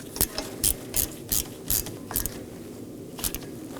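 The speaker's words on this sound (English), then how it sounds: "Now I'm going to snug it down with my T30 Torx bit." Ratchet driving a T30 Torx bit to snug the rotor set screw on a 2018-2024 Chevrolet Equinox rear hub, giving about seven sharp close ratcheting clicks in a loose rhythm, with no talking.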